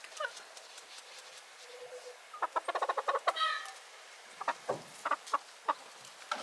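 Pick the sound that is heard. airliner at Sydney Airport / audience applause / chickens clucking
chickens clucking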